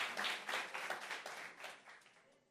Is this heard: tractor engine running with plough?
no